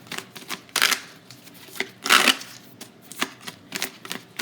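Tarot cards being shuffled by hand in quick bursts of riffling and flicking, close up, with short pauses between shuffles and no talking.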